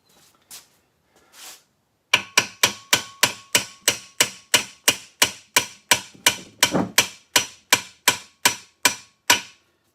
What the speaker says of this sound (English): I'm going to get a more manly hammer here.